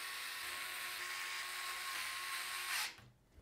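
A power screwdriver drives short radiator screws into the top of a Montech XR Wood PC case, a steady high-pitched whirring drone that stops abruptly near the end, close and alone.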